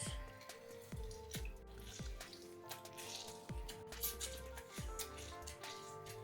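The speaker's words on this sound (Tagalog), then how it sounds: "maglagay ako ng half nitong lemon juice" Half a lemon is squeezed by hand over marinating meat, with irregular drips and small wet splats falling close by, quiet and spaced out over a soft background.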